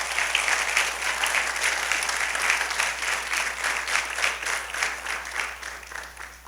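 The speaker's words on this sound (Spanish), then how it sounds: "Dale un fuerte aplauso al Señor por su gracia." Sustained applause from a church congregation fills the space, a steady dense clatter of many hands at full strength, easing slightly toward the end.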